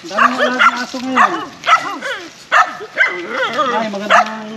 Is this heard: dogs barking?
yes